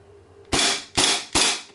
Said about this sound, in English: Let's check the blowback action real quick here.